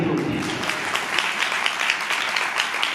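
A congregation at a Christian New Year gathering applauds together, a dense, steady wash of many hands clapping in a hall that holds at an even level throughout, with no speech over it.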